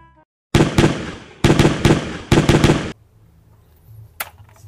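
Rapid bursts of plastic toy M16 gun fire, loud and close, in three clusters of quick pops over about two seconds, followed by quieter background noise and a single sharp click.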